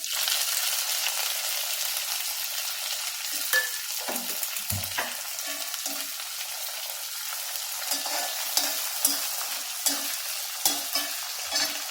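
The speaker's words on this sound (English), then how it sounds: "Then add 1 big onion sliced with little curry leaves." Sliced onion and curry leaves sauté in hot oil with mustard and fenugreek seeds for an egg curry, giving a steady, close frying hiss with soft, irregular stirring scrapes throughout and no talking.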